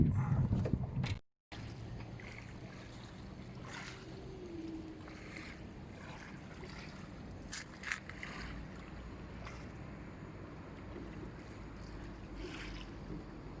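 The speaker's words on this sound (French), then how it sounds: "là, il y a quelques petites vagues" Small waves wash and slap steadily against a hull, with a low motor hum and breezy water noise running throughout.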